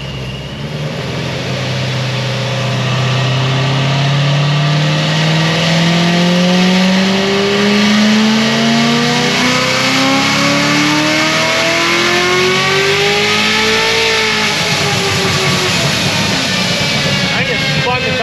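A car engine on a dyno climbs through a long, loud, full-throttle pull, winding higher and higher before cutting off near the end. A voice is faintly audible under the roar.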